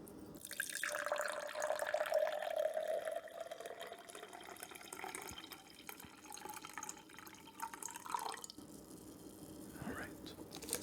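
Ocean Spray cran-apple juice is poured from a bottle into a glass, a close, quiet liquid stream with a rising gurgle as the glass fills, ending with a few soft drips and a light clink.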